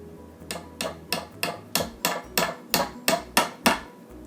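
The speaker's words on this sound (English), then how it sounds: "And I'll just hammer them in." A hammer drives nails into a wooden bat box with about ten sharp, evenly spaced strikes, close and crisp, with no talking.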